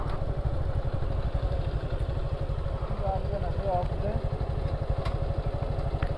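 A motorcycle on a bike tour from Dhaka to Sirajganj rides near the Navaratna temple. Its engine gives a close, loud, steady fast-pulsing drone, with a voice briefly heard over it.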